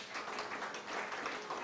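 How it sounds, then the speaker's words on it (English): An audience at a presentation gives a brief burst of dense, moderately distant applause, a continuous patter of many hands clapping at once. "please give him a big round of applause"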